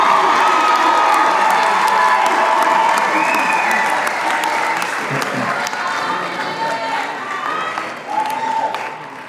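A large crowd at a 2017 university graduation ceremony applauds and cheers steadily for the graduating class, dense clapping with scattered shouts and whoops that swell, thin slightly, then surge again near the end.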